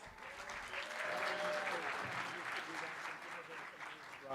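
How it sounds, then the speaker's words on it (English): Audience at a Board of Education meeting applauds evening honorees, a full, sustained round of clapping with crowd voices mixed in and a few tonal cheers or calls rising over it. "Audience, let's give everyone another round of applause."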